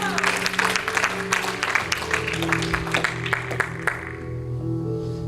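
Applause from a church congregation during a sermon, steady clapping for about four seconds that fades out, with a sustained tone underneath.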